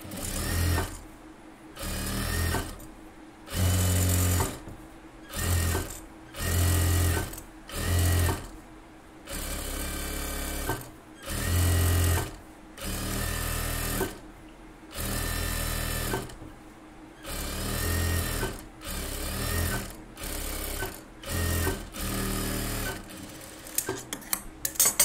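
A sewing machine stitches a blouse in a tailoring shop, running in repeated short bursts of steady whirring separated by brief pauses, close and clear, with no talk.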